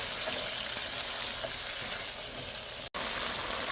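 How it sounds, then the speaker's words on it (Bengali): Potatoes and carrots frying in a pan, giving a steady, close, hissing sizzle that runs almost the whole time with one abrupt brief dropout near the end. "আলু আর গাজর কষানো হয়ে গেছে"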